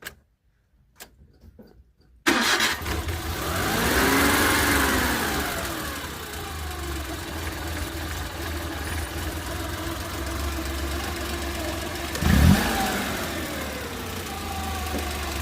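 After a near-silent start, a freshly overhauled car engine fires up at about two seconds and settles into a steady, close idle with a light ticking, revving up briefly early on and giving a short burst later.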